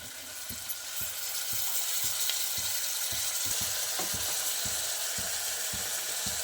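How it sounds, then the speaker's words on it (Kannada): Chopped onion frying in a pan for a moong sprouts curry, a steady close sizzle running throughout with regular sharp taps of a spoon stirring against the pan about twice a second. "ಇವಾಗ ಇದು ಫ್ರೈ ಆಗಿದೆ"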